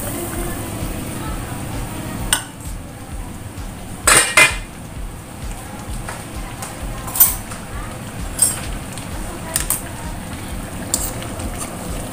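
Fish curry with long beans in coconut milk being stirred in a cooking pot, with scattered metallic clinks and scrapes of a utensil against the pot over a low background hum, and a voice speaking now and then.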